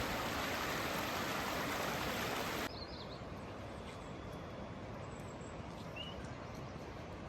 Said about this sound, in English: And there's the river we were following on the way up on the trail.